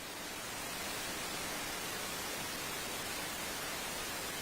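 Steady white noise fills a courtroom during a sidebar, an even, unbroken broadband hiss resembling rain, loud and constant throughout with no other sound.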